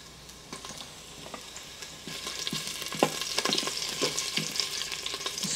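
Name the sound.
ginger, garlic and chilies frying in vegetable oil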